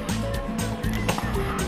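Rooster sound from the mobile game Manok na Pula, a loud, close, repeated clucking crow in rhythmic bursts with short pauses between calls, synthetic and game-like.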